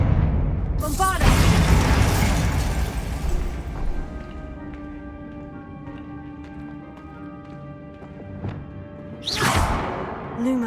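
Bombarda explosion spell in Hogwarts Legacy: a loud booming blast with scattering debris, followed by a ringing, shimmering tail of magical tones, then a second sharp burst near the end.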